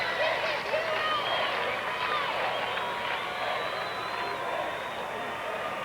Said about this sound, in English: The applause is for excellence on both sides